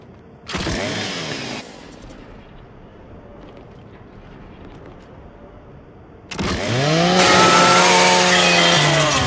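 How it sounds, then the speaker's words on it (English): The Lancer rifle's chainsaw bayonet cuts into a custodial unit in Gears 5: a brief loud buzzing rev, a quieter pause, then a second sustained, high-pitched grinding whine that holds steady to the end. "Just use your Lancer's chainsaw."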